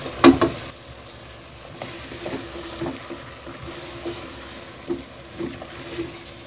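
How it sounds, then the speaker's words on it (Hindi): Meat drops into masala frying in a pot for biryani, giving a loud sizzle at the start that settles into a steady fry with scattered stirring scrapes and small bursts. "मसाला हमारा बहुत अच्छे से भुन गया है। अब हम इसमें गोश्त शामिल करेंगे।"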